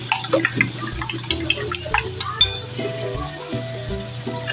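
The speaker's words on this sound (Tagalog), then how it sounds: "haluin lang natin yung itlog guys" Egg is stirred in a pan for Filipino sarciado with dalagang bukid fish, giving soft sizzling under repeated clinks and scrapes of a utensil against the pan, close and moderately loud.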